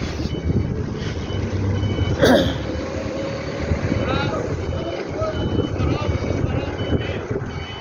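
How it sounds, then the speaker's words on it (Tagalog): A large truck reversing near a repair shop, its backup beeper sounding repeatedly over a steady engine rumble and wind noise, with a brief sharp clank partway through. "Ayan, pakapila na naman yung gagawin na truck"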